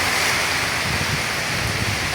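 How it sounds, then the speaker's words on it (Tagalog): Strong typhoon wind roars steadily and loudly through a street where tricycle drivers shelter, a dense, unbroken rushing that buffets the microphone for the whole moment with no voices over it. "Malakas na hangin, malakas na."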